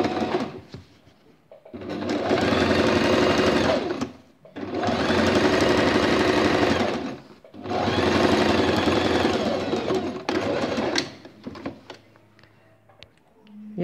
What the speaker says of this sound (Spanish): Y a coser.